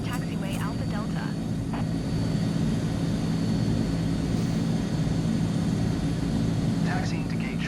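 A Transall C-160R transport plane taxiing at an airport in Microsoft Flight Simulator 2024 gives a loud, steady turboprop drone with a whining tone, under brief radio chatter between the pilot and ground control.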